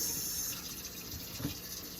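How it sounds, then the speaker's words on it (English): Rice being rinsed in water at a sink, a steady rushing pour of running water with light sloshing throughout, close and continuous with no speech. "just keep rinsing and rinse and rinse until I am almost done rinsing my rice"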